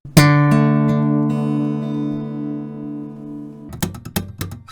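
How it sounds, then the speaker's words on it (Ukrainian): A held guitar note starts loud and gradually fades over several seconds in a diminuendo, followed by a few sharp plucks and clicks at the end. "Дімідуендо від гучного до тихого."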